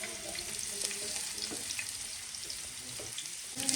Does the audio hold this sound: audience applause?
no